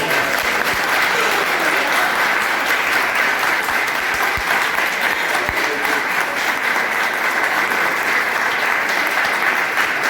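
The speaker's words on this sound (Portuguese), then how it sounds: "Você pode aplaudir ao Senhor por isso?" Sustained applause from a church congregation during a Portuguese-language worship service, a dense steady clapping that fills the room for the whole stretch with no pauses.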